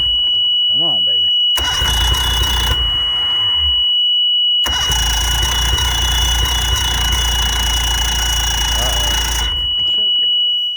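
Old Mercury 60hp outboard motor on a bass boat, unused for ten years, cranks in two long bursts with broadband mechanical roar, a steady high whine running throughout; brief voices before and after.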